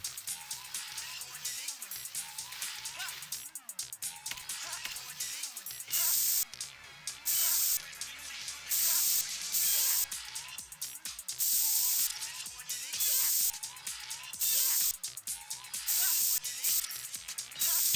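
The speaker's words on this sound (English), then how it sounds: "We need more spray paint." Graffiti spray paint hisses in repeated short bursts in the video game Jet Set Radio, bright and airy, over steady background music.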